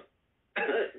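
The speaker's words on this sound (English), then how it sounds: "Well, I had a cough." A single short, close cough from a person, sharp and fairly loud, following a brief quiet moment.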